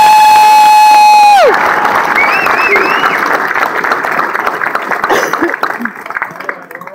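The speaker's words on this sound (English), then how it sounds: "So can we please give one more round of applause to your drill sergeant for making this happen?" A graduation crowd at a military ceremony breaks into loud applause and cheering for the drill sergeants right after a sustained tone cuts off, with dense clapping and shouts filling the rest and gradually thinning.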